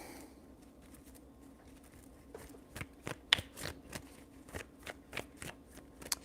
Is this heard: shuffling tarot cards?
yes